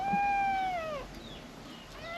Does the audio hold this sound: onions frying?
no